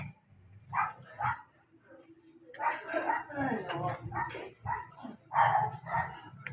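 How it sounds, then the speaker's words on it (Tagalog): A dog barks in a few short yips and barks on a street in Tondo, Manila, heard among people chatting and laughing nearby. "naglalaro yung aso"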